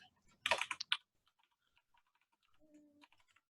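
A computer keyboard typed on in a quick cluster of clicking keystrokes, followed by a few faint scattered taps and a short electronic tone, close up with no talking.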